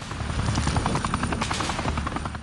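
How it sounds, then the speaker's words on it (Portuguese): Helicopters approach over Mogadishu, a steady, loud rotor thrum with rhythmic blade chop that fills the whole stretch without letting up. "de repente helicópteros se aproximarem com soldados descendo por cordas"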